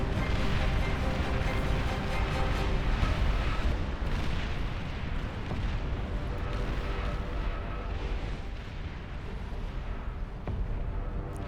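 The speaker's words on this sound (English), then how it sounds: "The plasma cannons arcing over the field." Plasma cannons firing and explosions in the Beyond All Reason strategy video game, a dense continuous roar of overlapping blasts and rumbling impacts, loud and sustained throughout.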